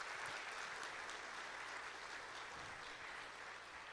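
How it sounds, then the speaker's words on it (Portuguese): A church congregation at a morning service breaks into sustained applause, a dense, even patter of many hands clapping together, steady throughout and fairly distant, with no voices standing out. "Eu quero uma salva de palmas ao Senhor Jesus pela vida dela."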